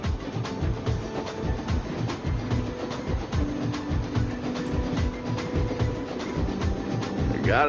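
Train carriages rolling along the track in The Walking Dead video game, a steady rhythmic clickety-clack of wheels over rail joints with a continuous rumble, close and sustained for the whole stretch with no talk.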